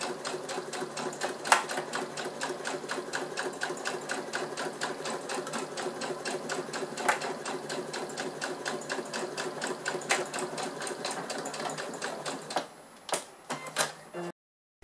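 A sewing machine runs a straight seam through fabric, a fast, steady, close mechanical chatter that holds for most of the time, then slows into a few short bursts before stopping.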